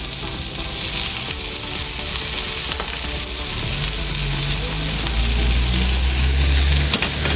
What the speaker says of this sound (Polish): Papryczka troszeczkę nam się podsmażyła, minęło kilka minutek i dodajemy nasze dwa rodzaje cukinii